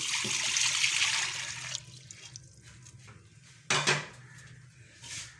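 Water pours steadily into a metal pressure cooker for a couple of seconds, followed by scattered clinks and knocks of cookware.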